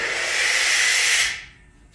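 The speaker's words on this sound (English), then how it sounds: "air compressor's making noise. Oh, that was probably the condensate drain." An air compressor's condensate drain in an industrial shop lets out a loud, close burst of hissing air that stops abruptly after about a second and a quarter, followed by quiet.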